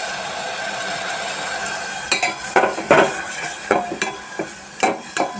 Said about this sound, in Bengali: সর্ষের তেল দিয়ে আমি মশলাটা একটু কষিয়ে নেব।